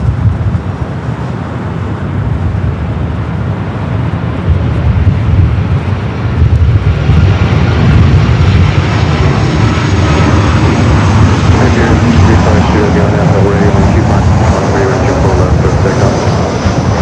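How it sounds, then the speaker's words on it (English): An SAS airliner pushing back and beginning to taxi from the Tom Bradley gates at LAX, a loud, steady jet engine rumble with wind buffeting the microphone, growing slightly fuller partway through. "SAS now starting its taxi, just pushing back from the gates of Tom Bradley."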